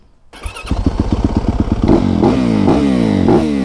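A street-legal supermoto dirt bike engine fires up with a choppy, rapid idle, then revs hard in several rising bursts, loud and close.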